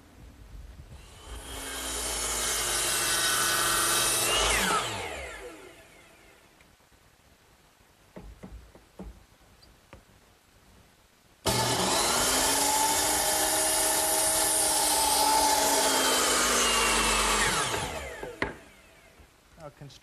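A power saw makes two cuts through wood at an 8-degree angle for a garden swing build, each a sustained whine of a few seconds with handling clatter and quiet between.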